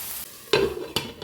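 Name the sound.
tossing spinach and corn with pepper in a pan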